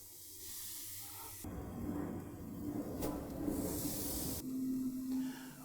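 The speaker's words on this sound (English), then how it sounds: "we're gonna throw these bad boys on the grill here, which I've already got preheated" Ribeye steaks sizzle on a preheated charcoal grill, a steady broad hiss that jumps louder as the meat goes down and holds for several seconds with no talking.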